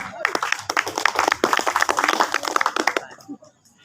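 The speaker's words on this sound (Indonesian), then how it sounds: "Sekali lagi mari berikan aplaus untuk narasumber kedua" An audience claps for a second speaker at a talk, producing dense, steady applause that lasts about three seconds before cutting off abruptly, loud and fairly close, with no voices over it.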